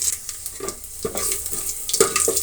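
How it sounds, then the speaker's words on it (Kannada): Onion and greens fry with mustard seeds in a pan for a ridge gourd and cabbage dish, a close sizzle punctuated by several distinct spatula stirs and scrapes at a fairly steady rhythm. "ಈರುಳ್ಳಿ ಒಂದು ಸ್ವಲ್ಪ ಒಂದು ಸೊಪ್ಪು ಒಂದು ಸ್ವಲ್ಪ ಇದು ಕೂಡ ಫ್ರೈ ಆಗಲಿ"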